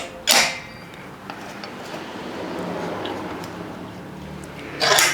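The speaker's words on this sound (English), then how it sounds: "Then I'll take this clamp and clamp this side down." A metal clamp is tightened down onto a sheet-metal patch panel, with a sharp metallic clack at the start, a stretch of faint scraping and creaking as it is worked, and another crisp clank at the end.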